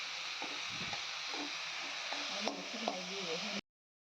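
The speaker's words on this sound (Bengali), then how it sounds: "শাক ভাজা হচ্ছে" Mixed leafy greens fry quietly in a pan with a steady, faint sizzle and occasional light stirring scrapes, ending abruptly.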